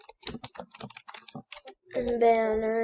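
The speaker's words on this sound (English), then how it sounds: "You type in YouTube banner" Computer keyboard typing as a banner template is searched for, a run of quick, close clicks in uneven bursts, then a sustained voice-like tone takes over near the end.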